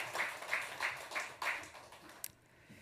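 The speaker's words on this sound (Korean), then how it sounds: "우리 성가대 경애 박수만 하겠습니다." A church congregation claps for the choir during a Sunday worship service, several distinct rhythmic clapping bursts at moderate distance before they fade out, fairly quiet.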